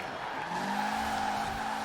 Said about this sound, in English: it also seems like it likes to kick out the tail when you handbrake turn like that